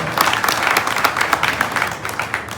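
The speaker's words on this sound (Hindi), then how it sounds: "बजरंग जी का और हमारे एमएलए साहब का जोरदार ताली से स्वागत" Dense, steady applause from a crowd at a village gathering, welcoming a local MLA and a guest with a warm round of clapping that runs the full length without pause.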